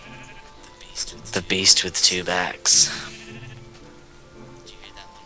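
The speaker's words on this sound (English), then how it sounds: "the sheep are like circling me" Sheep in a Minecraft farm give several close, loud bleats in quick succession, mixed in with people talking.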